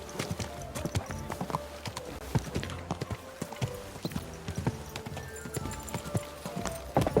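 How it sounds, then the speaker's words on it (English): Horse hooves clip-clop steadily in Kingdom Come: Deliverance 2, a rapid, continuous patter of hoofbeats up close, with occasional low tonal game sounds underneath and no talking. "Hey, your horse nearly trampled me."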